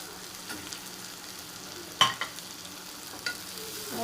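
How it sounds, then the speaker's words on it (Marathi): Onion and tomato frying in a pan for a Maharashtrian potato curry, a soft steady sizzle with a few sharp clicks and scrapes of stirring, close and fairly quiet with no talk. "कांदा आता भाजून झाला, तर त्याच्यामध्ये टोमॅटो टाकते"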